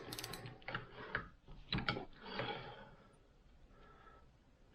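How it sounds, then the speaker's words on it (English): A socket wrench worked back and forth on the shock of a 2000 Honda CR125R motorcycle during seal replacement, close metallic ratcheting clicks in a few short bursts that fade toward the end, with no talk. "we're going to put a socket on it, work it back and forth"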